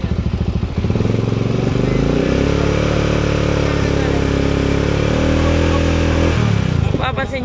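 A Bristol 400cc motorcycle engine, whose charging system is faulty, idles and then revs up and holds a high, loud, steady drone close by before settling back down. Someone talks over it.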